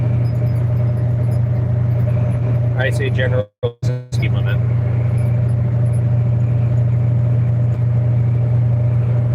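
An empty semi truck cruises down a highway with a steady, deep engine drone and constant road rumble, someone talking briefly over it amid a short clatter of handling noise.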